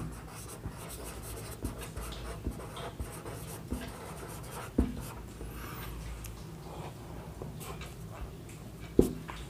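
Writing on paper or a board during a chemistry lesson on preparing nitrogen gas, a faint steady scratching of strokes with a couple of sharper taps, close and quiet with no speech.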